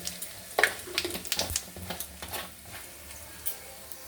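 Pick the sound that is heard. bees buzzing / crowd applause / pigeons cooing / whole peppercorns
whole peppercorns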